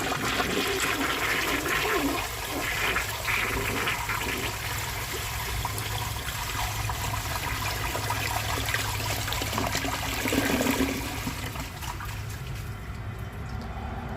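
A 1953 Kohler Trylon toilet flushes a washcloth down, a loud sustained rush of swirling water with gurgling, tapering off toward the end as the bowl drains.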